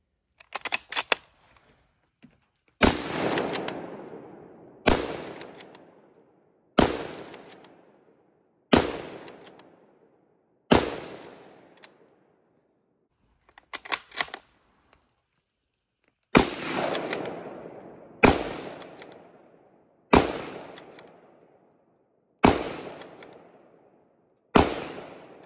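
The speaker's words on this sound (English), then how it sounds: "I'm going to go ahead and shoot those, and again in the order that I introduced them." Single rifle shots from an M1917 and a Springfield M1903 ring out one at a time, about a dozen loud outdoor reports spaced a couple of seconds apart, each with a decaying echo.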